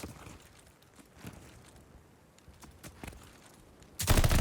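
Gunshots in a competitive video game match: a few scattered shots through the first four seconds, then a loud dense burst of fire at the end, with no talking.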